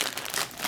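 A thin plastic ration bag being handled close up, giving continuous crinkling and rustling that is fairly loud for its brief length, with no talking.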